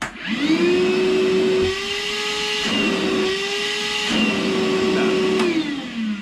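A loud vacuum cleaner, used to clean a Toyo heating stove, whines steadily, its motor pitch dipping and labouring several times as the intake is blocked and then freed.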